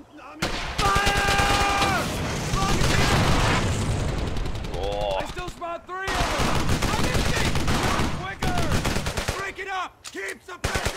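Sustained WWII rifle and machine-gun fire in a battle from the game Brothers in Arms Hell's Highway, dense bursts of shots rolling continuously with brief lulls, while voices shout over the gunfire.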